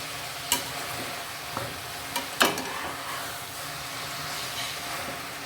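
Eggplant sautés in a pan for kathirikai gothsu, a continuous close sizzle broken by a few sharp clicks of a spoon scraping and stirring, with no speech.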